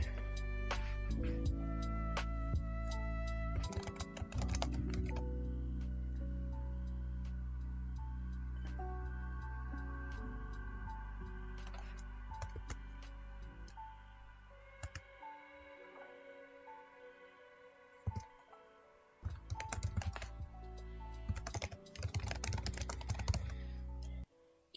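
Typing on a computer keyboard, a fast, dense run of clicking keystrokes that stays close and clear, pauses briefly, then resumes in quick bursts, over a low sustained background tone and with no talking.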